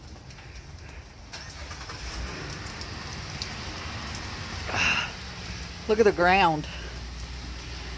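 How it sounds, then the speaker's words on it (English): Hail falling on the ground and on a car during a hailstorm in Benton, Arkansas, a steady pattering hiss throughout, with people talking nearby over it. "That's hail."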